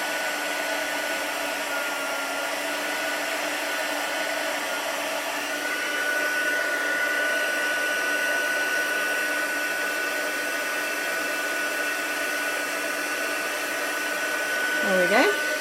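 Electric heat tool blowing steadily while heat-embossing a black crystal card, a continuous close whirring hiss that runs unbroken throughout, with a brief rustle near the end.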